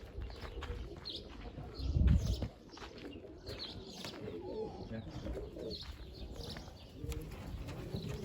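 A freshly caught tumbler pigeon in Mardin coos close by in soft repeated throaty phrases, with a brief burst of wing flapping or rustling early on and quieter calls throughout.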